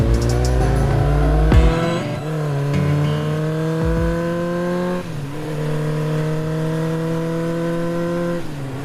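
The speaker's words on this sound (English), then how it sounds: "The motorbike sped away from the house." A motorbike speeds away from a house, its engine loud and close, revving hard with the pitch rising and falling through several surges.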